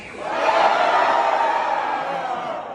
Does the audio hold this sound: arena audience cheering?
yes